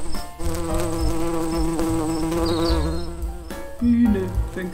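A bee buzzes in a continuous, close, steady drone with a slightly wavering pitch, briefly dipping before carrying on, with no voices over it.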